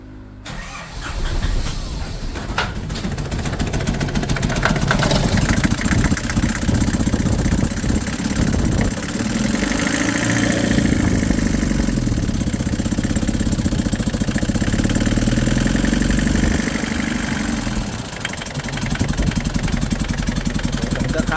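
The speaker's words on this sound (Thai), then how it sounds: "เดี๋ยวเรามาลองติดเครื่องกันดู" A Nissan Big M BD25 diesel engine that is misfiring and smoking white starts up and runs rough, a loud, steady, uneven clatter that goes on without a break.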